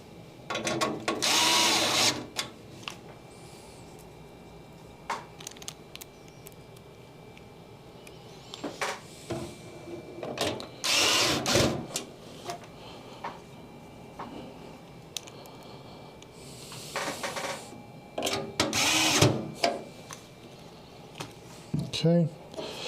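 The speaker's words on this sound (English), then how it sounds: "you should match 4 screws that you are screwing in" Screws being driven into standoffs inside a computer case during a PC build, intermittent bursts of whirring and clicking from a screwdriver separated by quiet stretches, with someone talking in between.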